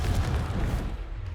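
A single Confringo explosion spell in Hogwarts Legacy, a loud, close, low boom that rumbles briefly and then fades.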